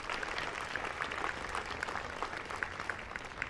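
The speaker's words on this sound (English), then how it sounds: "You may clap for them as well." Audience applause for school board members at a school commencement ceremony, a steady wash of clapping from many hands with no talking over it, lasting throughout.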